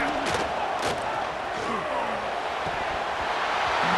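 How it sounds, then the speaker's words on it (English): Stadium crowd at an Ohio State college football game roars loudly and continuously on third down, a broad wash of cheering close around, with voices calling out within it. "the Buckeye crowd alive on 3rd down"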